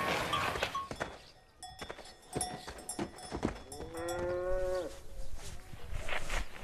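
An injured cow with a broken foot, struck by a car and taken in at an animal sanctuary, gives a long, clear, close moo after several scattered knocks and thumps.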